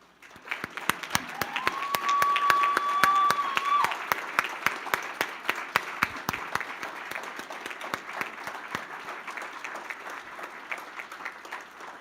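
A crowd at a Veterans Day celebration applauds veterans as they stand, with dense, steady clapping that swells early and then holds for over ten seconds.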